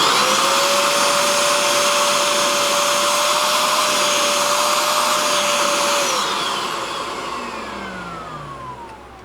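A Bissell Spot Clean Pro Pet carpet cleaner runs with a loud, steady suction whine and broad airy roar, then powers down near the end as the pitch falls away and the motor spins down.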